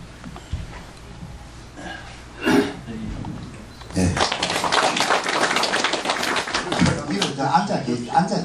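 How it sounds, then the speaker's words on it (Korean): At a committee meeting for a Confucian academy restoration, seated attendees applaud an introduced guest with a burst of close, moderately loud clapping that runs for several seconds after a short stretch of speech and a thump. "앉아 계신 거 박수로 쳐주시면 좋겠습니다"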